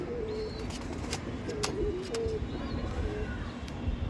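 Pigeons coo repeatedly with soft, rolling throaty calls at mid-distance, while sharp brief clicks and faint chirps scatter over a steady low background.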